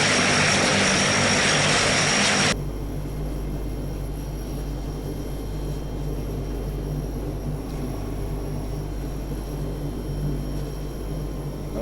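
A historic Convair 580 propeller airliner with its engine running on the ground, a steady loud droning roar that is louder for the first couple of seconds, then settles into a continuous hum.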